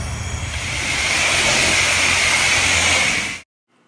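High-pressure spray wand rinsing a car at a self-service car wash, a steady loud hiss of water jetting against the bodywork that runs for over three seconds and then cuts off abruptly.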